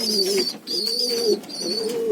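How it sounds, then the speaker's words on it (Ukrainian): Pigeons cooing close by in a loft, repeated soft throaty coos in three phrases with short gaps, no voices. "Ось голубка сидить. Ось голубка сидить. І он голуб сидить."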